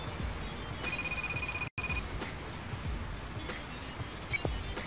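A phone rings in the PS1 street-racing game Racing Lagoon, a steady electronic trill lasting about a second over a dense, noisy game background.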